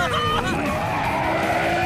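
A cartoon car skids to a stop in SpongeBob, with a sustained squealing screech and a harsh, continuous rubbing noise running loud throughout with no pause.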